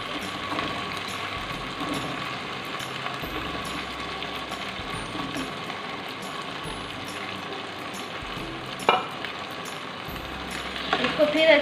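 Potatoes and green chilli sizzle in a pan with taro root, a steady soft frying hiss that lasts throughout with a few stirring clinks near the end, while someone talks over it.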